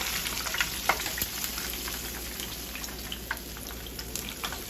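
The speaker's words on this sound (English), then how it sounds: "I just alternate between moving the head and the tail into the oil and just frying it that way" Fish fries in oil, sizzling and crackling steadily close by, with scattered sharp pops over a constant frying hiss.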